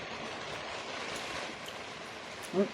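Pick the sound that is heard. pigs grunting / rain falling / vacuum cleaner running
rain falling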